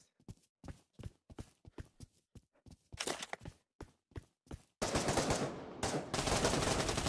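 Rapid bursts of gunfire from the VR shooter game Pavlov, sharp repeated shots in quick irregular volleys that build into a dense, loud continuous barrage toward the end, with no talk over it.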